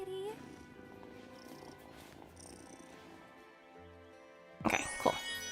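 A cat purrs in the farming life sim Wylde Flowers, a soft steady rumble under game music with a brief voice nearby and a bright chime near the end.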